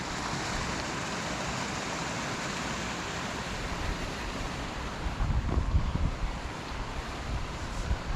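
Waterfall at Davidson's Linn, a steady broadband rush of falling water, loud and continuous, with some wind buffeting on the microphone.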